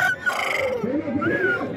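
Rooster crowing among fighting cocks kept for a Sankranti cockfight in Vijayawada, a loud nearby honking, strained call lasting the whole short moment.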